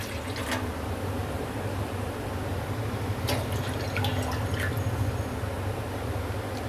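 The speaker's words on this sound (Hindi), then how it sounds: "पानी डाल देंगे इसमें।" Two cups of water poured into a pot to start sugar syrup for semolina halwa, a steady running splash and trickle with a few drips, close and fairly loud, with no talking.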